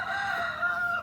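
A silver-laced English Orpington rooster crows once, close and loud: a single sustained, slightly wavering call that cuts off abruptly after about a second.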